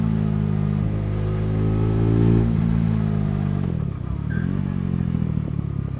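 A 2024 KTM 390 Adventure single-cylinder motorcycle is ridden on a test ride, its engine droning loud and close, with a rise in revs, then a drop and a steadier pull, and no voices.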